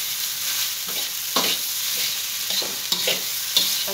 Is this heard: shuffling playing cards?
no